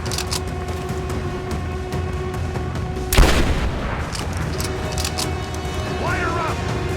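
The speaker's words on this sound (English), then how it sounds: "I'm taking fire!" A single loud gunshot-like boom rings out mid-clip in the video game Rise of the Tomb Raider, over a steady bed of game ambience and music, with a brief tonal chirp near the end.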